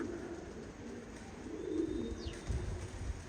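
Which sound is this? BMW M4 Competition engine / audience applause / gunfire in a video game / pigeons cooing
pigeons cooing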